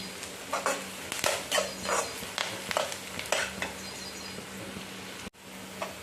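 Chopped onion frying in a pan for an amaranth stem curry, stirred with a spoon in repeated scraping strokes over a constant quiet sizzle, close up and without speech.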